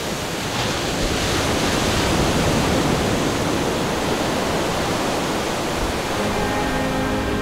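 Big ocean surf around 2 m high off the Jeju coast, a steady loud roar of breaking waves and rushing whitewater filling the scene with no speech.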